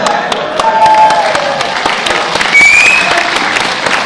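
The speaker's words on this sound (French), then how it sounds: "On a fait tout pour se faire applaudir" Loud, sustained convention conference audience applause with dense, steady clapping throughout and a couple of brief whistling tones rising above it.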